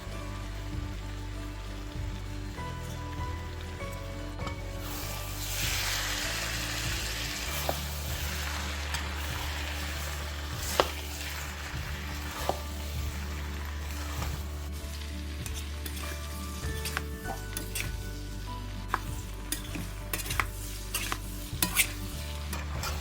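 Noodles and green onions stir-fried in a pan for a kids' lunchbox, a steady close sizzle with frequent sharp clicks and scrapes from tossing and stirring, continuing alone for the whole stretch.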